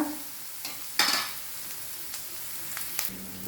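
Shallots sizzle softly in a pan on high flame while being stirred, with a few sharp scraping clinks of a utensil against the metal.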